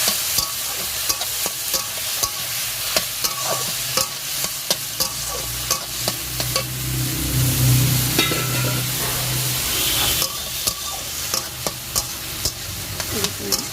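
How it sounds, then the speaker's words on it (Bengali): Bottle gourd shukto frying in a pan while being stirred, with repeated scraping spoon strokes over a steady close sizzle that swells briefly midway. "তো এটাকে তুমি নাড়িয়ে চালিয়ে নেবো"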